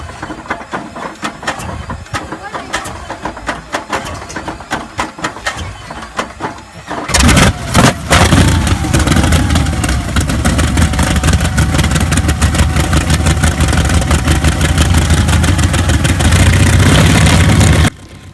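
A big old Wright R1820 radial aircraft engine cold-starts: a quieter stretch of sputters and clanks gives way to a sudden loud catch, then a steady, very loud rumbling run up close.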